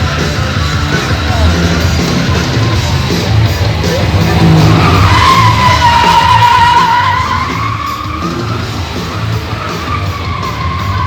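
Cars skid at a theme park car stunt show, a loud sustained tire squeal sweeping up and down over engine roar and crowd noise, easing slightly toward the end.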